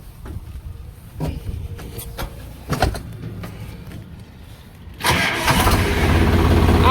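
A tractor on a rural farm gives a few clanks and clicks before its engine starts with a sudden burst about two-thirds of the way in, then runs steadily and loudly close by.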